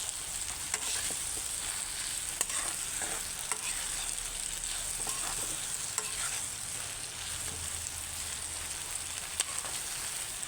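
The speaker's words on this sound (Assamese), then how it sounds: "এয়া ভেকুৰী ভাজি হৈ গৈছে" Turkey berries fry in a pan with a constant bright sizzle, broken by repeated scraping clicks as a spatula stirs them, close by and with no talking.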